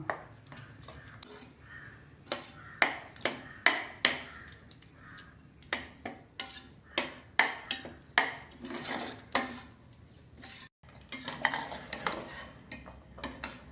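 Sweet pongal is stirred in a pot over high heat, a ladle knocking and scraping the metal sides in quick repeated strokes, close and clattery, with a brief pause near the end before the stirring resumes.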